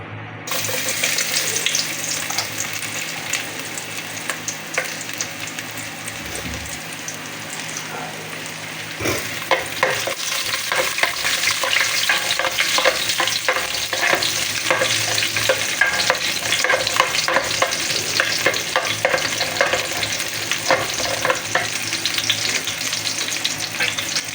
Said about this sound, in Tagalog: Lalagay na po natin muna ating bawang.